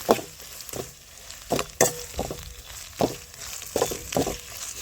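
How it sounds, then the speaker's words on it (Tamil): Dried fish frying in hot oil in a home kitchen, with a steady sizzle broken by repeated sharp crackling bursts and stirring clatter every second or so, close by and with no talk. "கருவாடு வணங்கிட்டு இருக்கேன்ப்பா"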